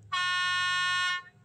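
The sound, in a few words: horn of CC 65007 locomotive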